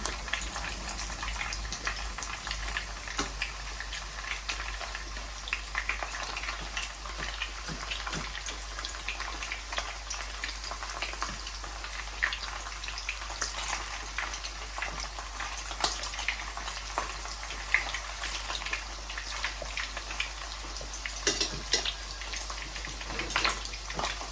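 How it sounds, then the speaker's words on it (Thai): Meatballs deep-fry in oil over low to medium heat, bubbling and sizzling in a continuous soft crackle with scattered pops. "ทอดไฟอ่อนถึงปานกลางค่ะ"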